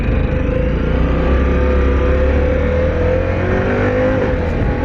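Harley-Davidson Pan America ST motorcycle ridden while working its quick shifter, a loud continuous engine drone with rising and dropping pitch through gear changes, heavy wind rumble underneath, and no talking.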